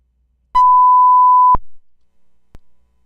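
A single steady electronic beep holds for about a second, then cuts off with a click, followed by a faint tick and near silence.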